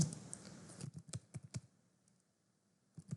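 Code typed on a computer keyboard in quick bursts of close, crisp key clicks, then a short quiet stretch before a few more keystrokes.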